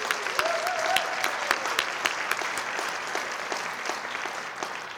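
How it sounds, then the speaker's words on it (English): Audience at a West Covina State of the City and employee recognition event gives a round of applause for public safety staff, a sustained, dense wash of clapping with a few sharper nearby claps and faint crowd murmur. "public safety, deserve another round of applause"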